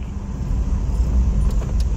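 Safari vehicle rolls along a jungle track at Jim Corbett, a steady low engine rumble close by with faint rattles from the body, and nobody speaking.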